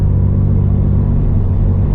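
A Subaru BRZ / Toyota GR86 engine pulling at low revs, around 3,000 rpm. It makes a loud, close, continuous rumble with steady low engine tones throughout.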